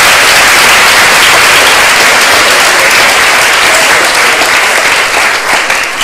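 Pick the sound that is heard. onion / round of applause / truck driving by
round of applause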